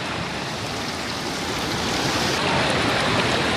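A dense, continuous roar of rushing floodwater and heavy rain after a cloudburst in an Uttarakhand village, loud and unbroken throughout.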